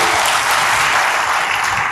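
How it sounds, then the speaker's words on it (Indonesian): A church congregation applauds in a dense, loud, continuous wash of clapping that holds steady throughout the short stretch. "Sekali lagi berikan tepuk tangan bagi Tuhan."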